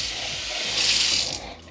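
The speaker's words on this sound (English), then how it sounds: "I'm also gonna rinse this can and put a little bit of extra water in it." Water from a faucet runs steadily into a rinsed tomato can, a close, continuous hiss and splash that swells briefly before easing off.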